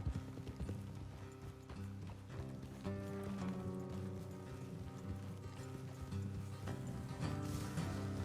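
Horses trotting in the video game Red Dead Redemption 2, steady clip-clop hoofbeats over a continuous musical background, rhythm holding throughout at moderate loudness.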